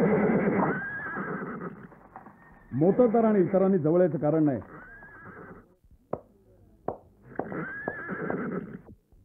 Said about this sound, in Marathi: पण घोडा तर उमदा दिसतोय.